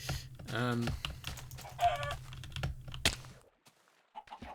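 Clucking from a chicken in Minecraft, brief pitched squawks mixed with game sounds and faint clicks, fairly quiet and close, with no talking over it.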